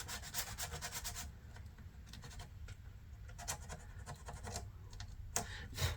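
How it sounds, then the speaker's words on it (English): Regular dry sandpaper rubbed by hand over a plastic 1/350 USS Enterprise model kit part, a steady close scratchy rasp with quick repeated strokes throughout. "This is not wet dry, this is regular sandpaper."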